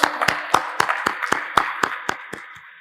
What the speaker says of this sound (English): Ladies and gentlemen, give a hand applause for Mr. Sanjeev Sanyal with us.